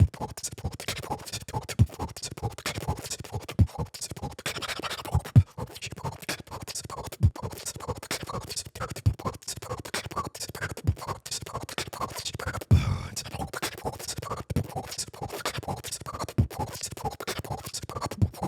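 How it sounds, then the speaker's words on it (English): Inward drag vocal breathing technique performed by a beatboxer: a continuous run of sharp, scratchy inhaled rasps and clicks, dense and rhythmic, close to the mic with no talking. "So there's this one technique called the inward drag that I developed."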